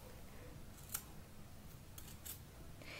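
Scissors snip around a shoe covered in devoré fabric, giving faint, sparse cuts over a quiet background hiss.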